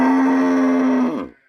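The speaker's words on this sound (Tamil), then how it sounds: "இது கருப்பு மாட்டில் வெள்ளை கொம்பு." A black cow with white horns gives one long, loud, close moo lasting over a second, a steady low tone that fades quickly at the end, with no voices.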